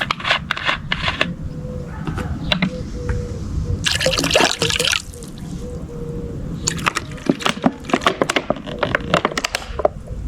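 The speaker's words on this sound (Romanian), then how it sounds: "acest litru de soluție cu drojdie o să o combin cu 5 litri de apă" A litre of fresh-yeast solution pours and splashes into a bucket of five litres of water, with a loud rushing gush in the middle and scattered knocks and clatters around it.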